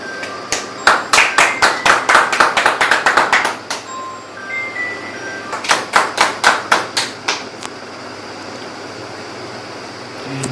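Audience at a hospitality industry workshop claps in two distinct bursts of sharp, rapid hand claps, the first lasting about three seconds and the second about two, with a quieter pause between them.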